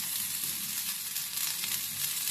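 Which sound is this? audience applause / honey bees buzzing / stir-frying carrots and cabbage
stir-frying carrots and cabbage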